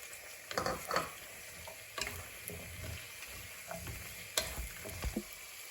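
Potato and carrot pieces tossed into sautéed onions for a mutton stew, giving quiet sizzling in the pan with a few scraping stirs of a spoon, fairly soft and close.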